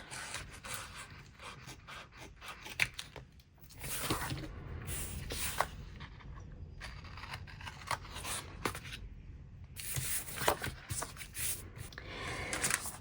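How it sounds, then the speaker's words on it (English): Scissors snip and slide through paper while trimming and separating Happy Planner pages, a close series of irregular cutting and rustling strokes with brief pauses, with no talking. "now we will trim the bottom and then cut these pages apart"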